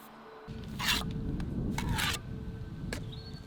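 A trowel scraping leftover mortar off laid bricks, with two rasping scrapes followed by lighter scratches and small taps, close and fairly loud, no voices heard.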